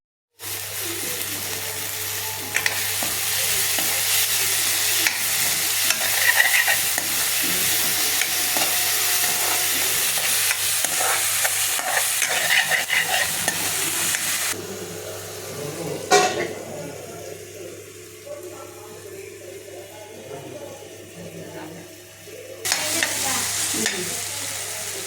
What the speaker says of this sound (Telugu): ఫ్రై చేయాలి